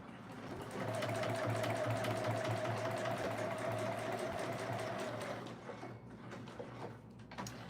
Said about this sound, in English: I'm a top stitch it. I'm gonna move the needle this away and increase my stitch.